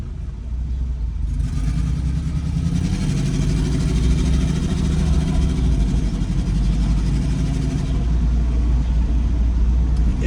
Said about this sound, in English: There's a bunch of traffic,